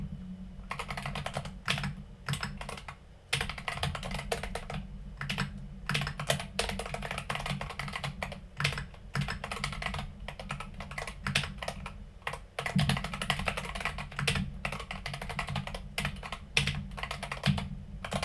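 Rapid typing on a computer keyboard, a dense stream of close, crisp key clicks in irregular bursts with short pauses, continuing throughout with no voices.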